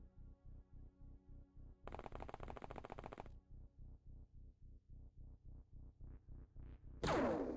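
Rapid gunshots from a turn-based alien strategy game, OpenXcom: a steady run of evenly spaced sharp cracks, one long dense burst partway through, and a louder blast at the end.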